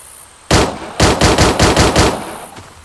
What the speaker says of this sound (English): When I shoot him